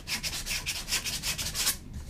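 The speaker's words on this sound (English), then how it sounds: "Sanding them out nice and smooth as I can get." Rhythmic back-and-forth sanding strokes on a carved wooden spoon, about a dozen quick rasping passes close up, then they stop.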